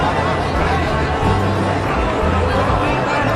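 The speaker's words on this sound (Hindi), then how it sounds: "प्रियंका गांधी के इस रोड शो में उमड़ी भीड़" A dense crowd gathered at Priyanka Gandhi's road show in India, a steady roar of overlapping voices and chatter that stays loud and close throughout.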